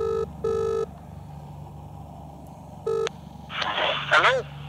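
Telephone dialing on speakerphone, with two short electronic tones, a pause, then another short tone, followed by a brief burst of garbled voice through the phone line.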